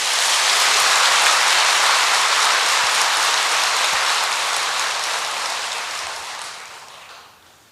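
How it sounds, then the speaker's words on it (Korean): Big round of applause from an audience at a Korean Buddhist dharma talk, a dense, loud, steady wash of many hands clapping that fades toward the end. "큰 박수 부탁드립니다."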